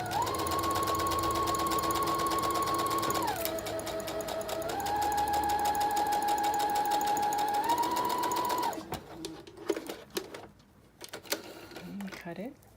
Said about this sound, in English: I'm just going to sew along there so that I'm sewing all of my pieces together